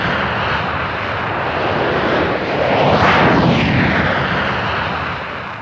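Concorde passenger aircraft taking off beside an airport perimeter: a loud, sustained jet roar that swells and sweeps in pitch as it passes close by, then slowly eases.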